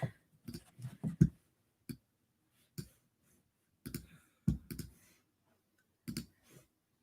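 Tarot cards being shuffled by hand, quiet close bursts of papery riffling and snapping clicks in short irregular clusters separated by silence.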